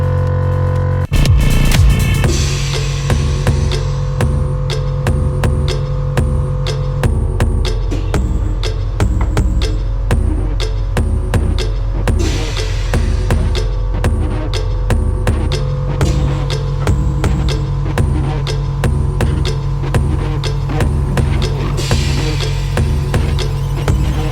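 Air bag suspension compressor on a Ford BA Fairlane runs steadily, building toward its 200 psi preset with a loud continuous throbbing hum and regular rhythmic pulsing, close up and alone.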